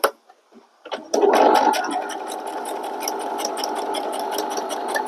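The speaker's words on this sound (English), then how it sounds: "Just bring our threads back over here and sew down here." Sewing machine stitching a fabric rice bag, a few short starts then a steady close whirring run with fast rhythmic needle ticks.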